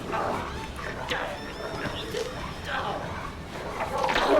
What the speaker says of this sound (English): Dog attack.